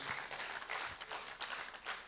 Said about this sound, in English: With a hand of applause, let's thank our panelists upstage.